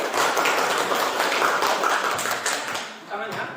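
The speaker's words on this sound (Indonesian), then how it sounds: "Oke, tepuk tangan dulu sama kelompok 1." A classroom of students claps for group 1, a dense patter of hands that carries on steadily before tapering off near the end.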